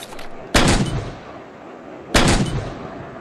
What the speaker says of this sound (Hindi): आप देखना चाहेंगे मेरे शॉटगन के फायर को?